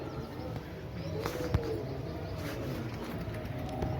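Racing pigeons take off from a rooftop, their flapping wings carrying over a noisy outdoor background with soft coos and an occasional sharper sound nearby.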